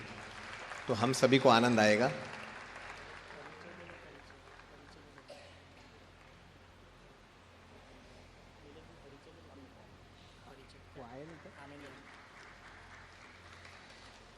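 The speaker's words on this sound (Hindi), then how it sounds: "कृपया तालियां बजती रहनी चाहिए" Audience applause at a Hindi spiritual discourse event, a dense burst of clapping lasting about a second near the start, then fading under continued talk and background hall noise.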